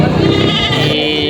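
Goats bleat loudly and close by at a goat market in Padre Garcia, Batangas, a single drawn-out wavering call.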